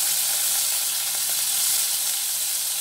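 Cut potatoes drop into hot oil with curry leaves, ginger and green chillies for sabudana khichdi, giving a loud, steady, close sizzle of frying with no voices.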